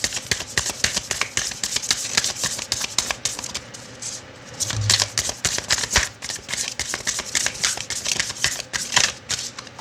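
Tarot cards shuffled by hand, a dense run of quick papery riffles and flicks filling the whole stretch, close and steady, with a brief pause partway through.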